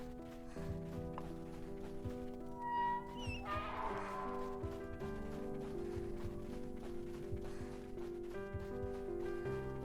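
A cat meows briefly in the Seek video game, heard over a steady bed of tonal game music, with a soft shuffling of footsteps and no talk.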